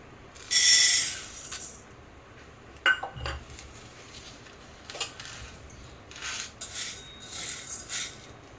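Sago pearls roasting over low heat in a kadhai give a quiet background rustle, broken by bright metallic clinks and scrapes of a spoon against the pan at irregular intervals, with one louder burst early on.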